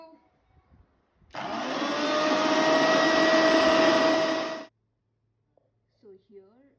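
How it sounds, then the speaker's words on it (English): A grinder whirs loudly for about three seconds as it blends curry paste with coconut milk, a steady motor hum that starts and stops abruptly, with quiet moments before and after. "Let's grind it. Also added some coconut milk"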